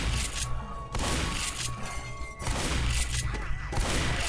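Gunfire in the Left 4 Dead video game, a few heavy booming shotgun blasts spaced roughly a second apart, loud and close over game ambience.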